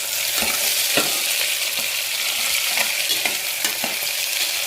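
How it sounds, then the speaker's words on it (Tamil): Onions sizzle and crackle in a hot pan while a spoon stirs them, with occasional scraping knocks over the steady frying hiss. "நல்லா போட்டு வதக்கிடுங்க."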